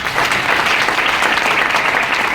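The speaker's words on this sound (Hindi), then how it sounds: "तो एक बार यॉर्कर एफएक्स के लिए तालियां दीजिए" An audience claps continuously, loud and dense, with steady applause filling the whole stretch.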